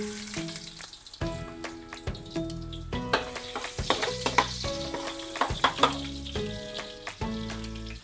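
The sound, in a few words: sautéing ginger in oil in a pan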